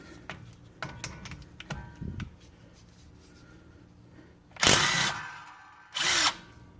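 A new Earthquake XT 3/8-inch 20V cordless impact wrench removes 14mm bolts: two loud, close hammering bursts, the first about a second long and the second shorter, after a stretch of quieter tool handling and clicking.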